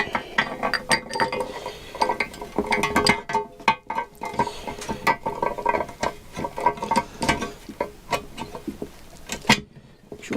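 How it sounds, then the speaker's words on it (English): A stator alternator shaft is pushed through the new bottom crankcase of a Kawasaki GTR 1000 motorcycle, producing close metallic clicks, clinks and ratcheting scrapes that come in irregular bursts without talk. "Push the shaft through."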